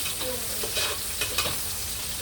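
Garlic and onion sauté in a pan for mung bean stew, giving a steady close sizzle with a few soft scrapes of stirring over about two seconds.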